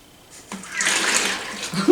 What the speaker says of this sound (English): And I'm just gonna pour it in.